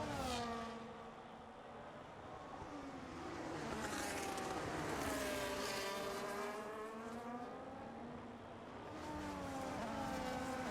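A race car in a racing video game on a straight, using ERS boost to overtake, with a high engine whine that climbs and falls through gear changes and a second car's note passing alongside.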